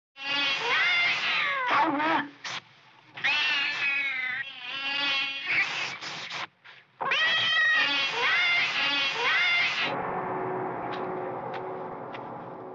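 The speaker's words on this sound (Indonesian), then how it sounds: "ia menyaksikan kucing kesayangannya sedang bertarung dengan seekor ular kobra" A pet cat fighting a cobra lets out a string of loud, close yowls and drawn-out caterwauling growls in uneven bursts with short gaps, before easing into a quieter, fading tail.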